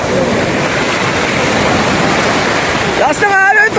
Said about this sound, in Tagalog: Sinasalubong malakas na alon!